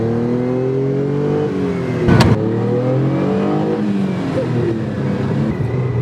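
Classic Dino sports car driving on an open road, its engine note climbing and falling through gear changes, close and loud, with a brief sharp burst midway.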